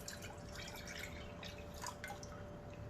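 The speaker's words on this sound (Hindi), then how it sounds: "इसमें हम डालेंगे दूध" Milk pours into a pan for sabudana kheer, a soft, continuous liquid trickle with faint drips, close but quiet, with no one speaking.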